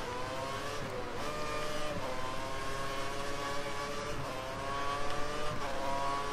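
Formula One race car engines from the F1 2013 video game scream at high revs during the Australian Grand Prix, with continuous whining pitch that dips and climbs as gears shift and cars run close together.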